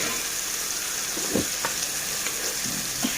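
Bottle gourd pieces, tomatoes and onions frying in a pan, a steady close sizzling hiss punctuated by a few soft stirring scrapes and taps.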